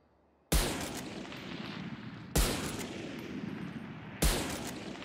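Gunfire in the video game Valorant: three single loud shots spaced about two seconds apart, each with a sharp attack and a long fading tail, no talk.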